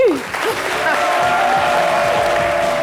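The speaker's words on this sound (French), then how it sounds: "Bravo, on applaudit!" An audience applauds steadily in a studio setting, a dense continuous clapping that stays loud and even for a few seconds, with a voice briefly heard at the start.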